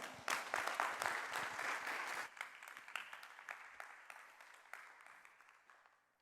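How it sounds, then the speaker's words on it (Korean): Applause from a church congregation welcoming a pastor to the stage, loud at first, then thinning out and fading over several seconds as the clapping winds down. "우리 박수로 우리 서정인 목사님 모시도록 하겠습니다"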